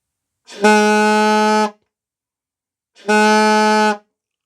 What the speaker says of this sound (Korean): 그렇게 했을 때 소리가 어떤 소리가 나는지 한번 들어보십시오